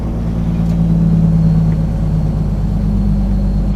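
An 18-speed truck slows on engine braking and the jake brake while downshifting, a loud, close, steady low rumble with a droning tone that holds, then fades slightly.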